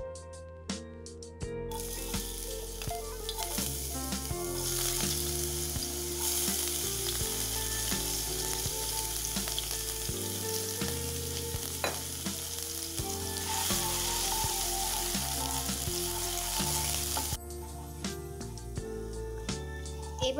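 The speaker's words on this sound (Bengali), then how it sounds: "এবার আমি এর মধ্যে কেটে রাখা রসুন, আদা আর কাঁচা লঙ্কাটা দিয়ে একটু সটে করে নেব।" Chopped garlic, ginger and green chilli sauté in a hot pan for veg momo filling, giving a steady loud sizzle with occasional stirring scrapes throughout.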